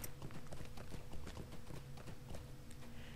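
Horse hooves clip-clop at a steady trotting rhythm in the Lord of the Rings Online fantasy game, close and clear over a soft ambient backdrop, with no talking.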